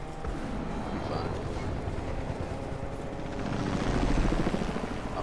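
A helicopter in the Fortnite video game thrums steadily with a dense, broadband roar that swells slightly near the end, with gunfire-like bursts and game noise mixed in.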